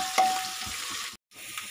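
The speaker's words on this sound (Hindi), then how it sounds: "थोड़ा सा हम प्याज को फ्राई कर लेंगे" Chopped onion fries in oil with curry leaves for dal khichdi, a close continuous sizzle with light stirring scrapes and a brief gap of silence near the end.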